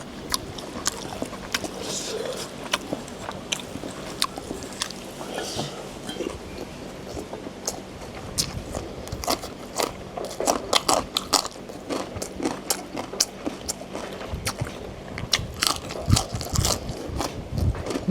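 Crunchy food is bitten and chewed with mango chili dip, giving repeated close, crisp crunches and wet chewing that grow busier toward the end, with some talking mixed in.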